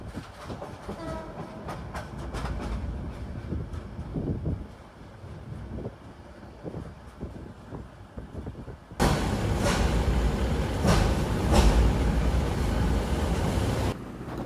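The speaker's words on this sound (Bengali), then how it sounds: "আমাদের আন্তনগর পর্যটক এক্সপ্রেস এই মুহূর্তে ছেড়ে যাচ্ছে ঢাকা এয়ারপোর্ট স্টেশন" The Parjotak Express intercity passenger train pulls away from Dhaka Airport station, its steady rail rumble and clatter growing suddenly louder and rougher midway, with wind buffeting the microphone and no voices.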